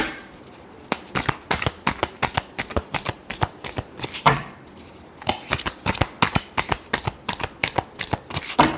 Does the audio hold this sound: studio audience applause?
no